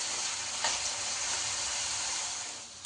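Potato pieces fry in oil in a non-stick pan, a dense, even sizzle holding steady and close throughout with a faint stir near the start and a brief clatter at the end.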